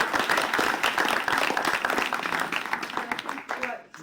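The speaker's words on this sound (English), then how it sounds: "We can give them another round of applause." Audience applause at a painting program's results session, a dense steady patter of clapping that fades near the end, with some voices mixed in.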